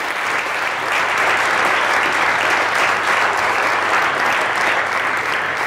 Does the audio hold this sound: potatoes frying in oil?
no